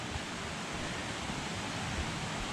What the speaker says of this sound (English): now this sounds like we're at the waterfall